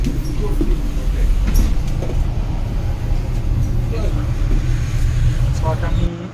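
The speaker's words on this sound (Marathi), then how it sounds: "मी अपर डेकला बसलो आहे ट्रेनच्या आणि ट्रेन सुरू झाली आहे" A double-deck train in Chicago starts moving, heard from the upper deck as a steady low rumble with faint clicks and creaks of the carriage, a few light knocks scattered over the continuous hum.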